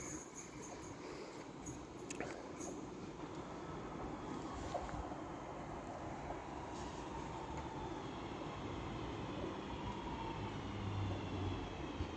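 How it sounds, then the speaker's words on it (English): A Northern Class 323 electric train passes at Cheadle Hulme station on the West Coast Main Line, a steady, fairly distant rolling rumble of wheels on rail that builds slowly over several seconds with no voices. "The next train to be coming around the corner will be a Northern Class 323 running from Stoke-on-Trent to Manchester Piccadilly"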